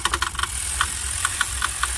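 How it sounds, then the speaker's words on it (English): Ford V10 truck engine with a misfire, PB Blaster in its cylinders, cranking and turning over with quick repeated ticks, then a looser, uneven clatter, loud and close. "We gotta cycle the engine for a second so it will get some of that PB Blaster out of the system."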